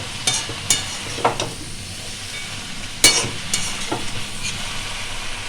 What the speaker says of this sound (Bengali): পালং শাক আর এই সবজিগুলো সব একসাথে ভালো করে নেড়ে নেবো